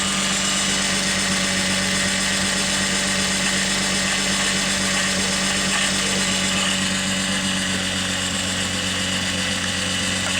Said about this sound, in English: I'm gonna let it come down off of its high idle because the engine is cold right now